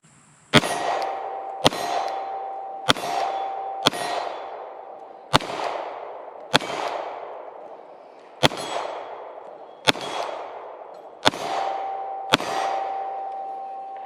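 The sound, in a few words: Glock 48 MOS pistol firing 124 grain NATO rounds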